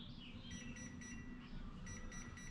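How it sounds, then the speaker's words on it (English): A Hobbywing 1080 speed controller emits a series of short, evenly spaced electronic beeps during setup of an RC car, sounding over a steady background hum with no speech. "Wait for another beep for the motor maybe."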